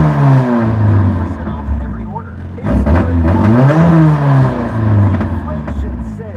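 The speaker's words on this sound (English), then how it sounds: "So let's start this engine." A Nissan 240SX's SR20 engine runs loud and close, with a low rumbling idle that swells into a couple of rising and falling revs before settling back down.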